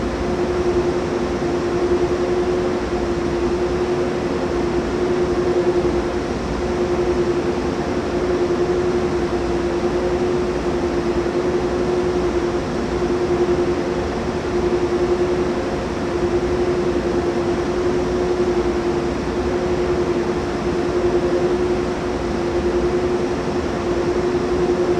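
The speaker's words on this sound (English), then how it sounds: "And there is the train just there" A train runs steadily in Train Sim World 2, giving a continuous loud rumble with a constant steady hum on top and no change over the whole stretch. Nobody speaks.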